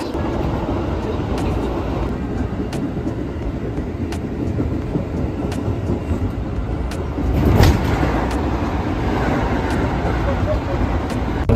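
Inside a commuter train heading to Manggarai station, a steady rumble of the moving carriage runs throughout with regular faint clicks of wheels over rail joints and a brief louder surge midway.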